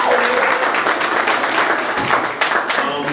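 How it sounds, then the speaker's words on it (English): Audience applause at a gun violence prevention conference in Chicago, a steady dense wash of clapping that stays loud and close throughout with no break. "We're going to clap it up for"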